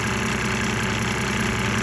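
A diesel engine with fuel-system cleaner added runs steadily and loudly up close at a sustained rev of around 2,000 RPM, a dense, even mechanical rumble with a faint knocking texture and no talk.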